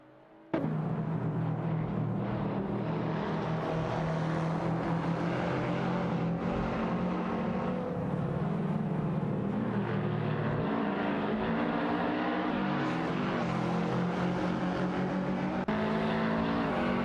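Race cars in an AI racing video game roar continuously, with engines revving and shifting pitch as they speed along. The sound is loud and unbroken, with no voices.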